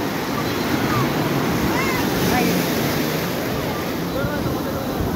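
Sea waves roll and break on the beach at Cox's Bazar, a loud continuous surf roar with wind buffeting the microphone and no pause throughout.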